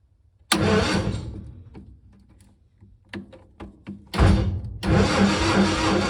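Homemade Model T with an Onan CK engine cranks and fires up, a loud burst of starter whir and sputtering that fades, a few brief clatters, then the engine catches again and runs loud and steady nearby.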